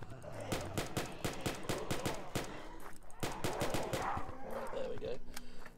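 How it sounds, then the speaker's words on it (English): Rapid gunfire from the Dark Days video game as zombies are shot, a dense run of sharp repeated bursts followed by sparser shots and growling creature noises. "Helps to actually point the mouse cursor at the zombies, then I shoot them."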